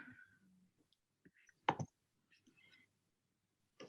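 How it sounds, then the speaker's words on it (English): Someone types on a keyboard during an online community meeting, a few quiet, scattered clicks and taps with one louder cluster of keystrokes, otherwise near silence. "Somebody's typing."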